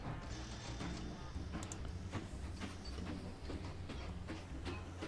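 Train running in the Mashinky video game, a steady rumbling rail roll with rhythmic clickety-clack over the track joints, continuous and moderately loud without talk.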